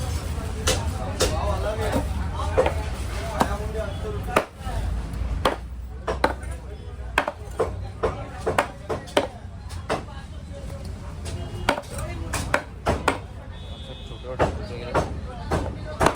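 Sharp knife chops cutting crab into small pieces on a board, repeated irregular close knocks under ongoing talk and background chatter.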